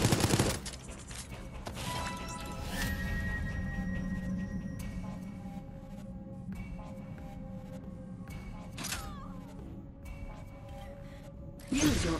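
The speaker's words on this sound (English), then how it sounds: "Use the machine gun skill card to defeat the survivor." Sustained game gunfire from a machine gun skill in Project Resistance, a Resident Evil asymmetric multiplayer game, runs steadily for about twelve seconds at moderate level, with sharper bursts at the start and end.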